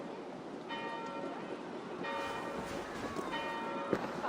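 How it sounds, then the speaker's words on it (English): Church bells ring out in an Assassin's Creed Valhalla game scene, tolling in three repeated clanging strikes with long ringing overtones, fairly loud over a low ambient background with no talk. "Do you not hear the bells?"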